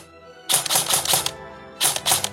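An Arcturus NY03-CB airsoft replica fires full auto in two rapid bursts of crisp, close mechanical clatter, separated by a brief pause, with no talking.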